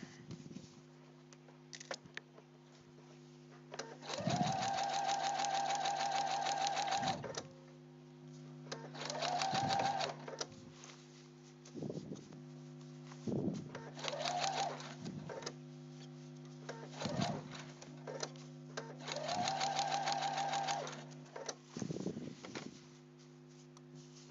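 Sewing machine running a simple straight seam on a parka, stitching in several bursts of two to three seconds with short pauses between runs, steady mechanical whir over a constant background hum.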